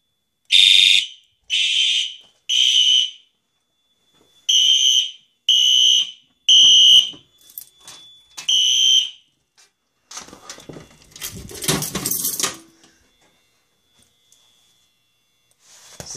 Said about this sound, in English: This has got to be the loudest strobe I've ever heard.